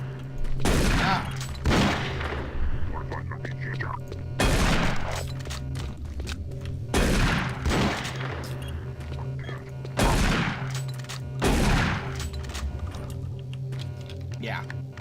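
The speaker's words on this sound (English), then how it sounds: "This shotgun sucks." Repeated shotgun blasts in the video game Doom 3, about five loud booming shots spaced a couple of seconds apart over a steady low game hum, with faint clicks between them.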